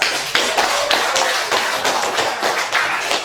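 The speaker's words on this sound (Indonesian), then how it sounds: "Oke, kita beri aplaus." A classroom group gives a round of applause, dense crowded clapping from many hands that stays steady and fairly loud for a few seconds with no talking.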